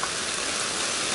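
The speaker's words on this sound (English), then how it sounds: "It's not really raining that hard, but there's weird hail." Hail falling together with light rain outdoors at a homestead, a steady dense patter of small impacts spread evenly with no voices.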